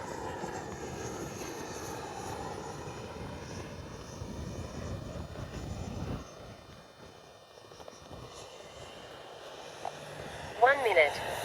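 An Arrows RC F-15 model jet with a 64mm electric ducted fan flies overhead, a steady whooshing drone that fades near the middle and then returns, with a brief electronic beep near the end.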